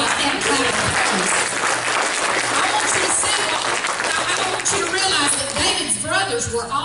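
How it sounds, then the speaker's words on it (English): A church congregation claps together in praise during a Sunday service, producing a loud, dense and continuous wash of hand claps with voices calling out over it. "Give God a clap of praise."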